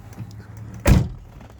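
A Chevrolet Omega's door shuts once with a sharp, close thunk, then the cabin quiets again.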